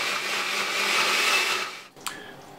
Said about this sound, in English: blend this until it's nice and smooth